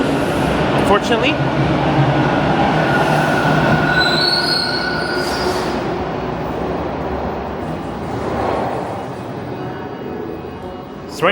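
A Toronto subway train pulls through Christie Station with a loud rumbling roar and high squealing wheels, the noise holding steady and then easing off as the train moves away; a voice speaks nearby.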